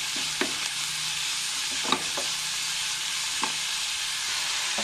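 Fenugreek leaves sautéed with turmeric in a pan for methi pulao, giving a steady soft sizzle with a few brief scraping stirs of a spoon, close and moderately quiet, no voices.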